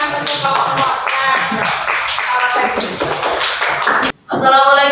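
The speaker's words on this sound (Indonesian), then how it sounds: "beri tepuk tangan untuk kelompoknya" A classroom group is clapped for after their presentation, a dense patter of hand claps running steadily for about four seconds, briefly cutting out, then resuming with voices mixed in.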